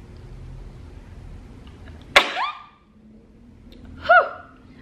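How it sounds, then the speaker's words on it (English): A single sharp sneeze bursts out, followed by a short breathy exhale, then a brief voiced sound after a pause. "I have to sneeze, I have to sneeze."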